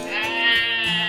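A single goat bleats in one sustained, wavering cry lasting about a second, close and clear with no talk over it.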